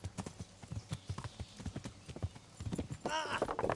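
Horse hooves clip-clop in a steady rhythmic gait in the video game Kingdom Come Deliverance, fairly close, ending in a whinny-like burst.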